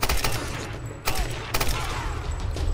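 An old firearm discharging in Tomb Raider (2013), a few loud close sharp shots spaced about half a second apart over a dense rumbling game background.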